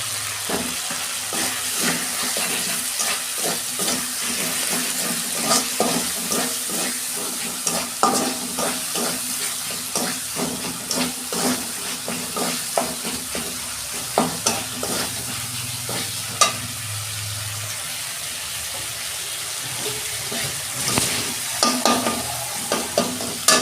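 Spices for a vegetarian cabbage ghonto frying in oil in a pan, a continuous close sizzle under a steady rhythm of spatula scrapes and taps against the pan, no voices.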